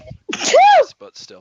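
A single sharp human sneeze with a quick inhaled build-up and a loud burst, followed at once by a few brief words of speech.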